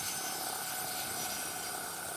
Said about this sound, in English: the next helicopter prepares to leave